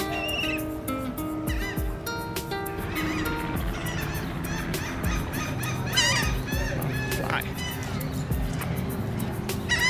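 Geese honk persistently and loudly in a dense, overlapping chorus at a construction site, with continuous background rumble and scattered calls close by throughout.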